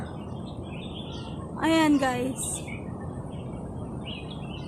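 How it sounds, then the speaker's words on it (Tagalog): Birds chirp in a park, a short burst of calls in the middle standing out over steady outdoor background, with people talking nearby. "Mas ang daming ibon."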